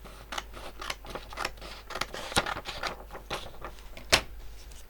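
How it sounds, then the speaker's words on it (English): Scissors trim the paper border off an altered notebook page in a quiet series of crisp, irregular snips, close up, with one sharper cut standing out. "I'm trimming off my border"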